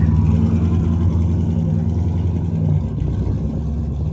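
A loud LS V8 swapped into a G-body car drives close by with a deep, throaty engine drone that holds steady and then dips slightly near the end.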